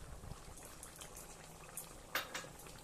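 Thick Gondhoraj curry bubbling in a pan on the stove, quiet, steady blips and pops of a dense sauce, with a couple of sharper bursts near the end.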